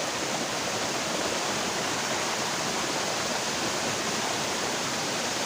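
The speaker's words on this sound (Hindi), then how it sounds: "इधर से देखिए आप कितने ऊपर से पानी आ रहा है, कितने तेज बहाव में नीचे आ रहा है ऊपर से।" A mountain stream rushes fast down a steep hillside in the hills, making a constant, loud, broadband roar of churning water with no pauses or voices.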